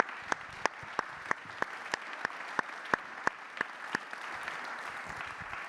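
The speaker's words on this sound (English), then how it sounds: "I think we can applaud our panelists, please." Small audience at a launch-day panel event clapping for the panelists, a sparse, steady run of distinct individual claps at even intervals, fairly quiet and fading after about four seconds.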